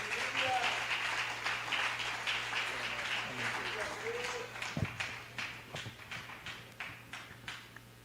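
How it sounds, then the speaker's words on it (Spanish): A church congregation claps in applause, dense at first and then thinning into scattered, separate claps, mixed with voices from the room. "Un aplauso a nuestro Dios."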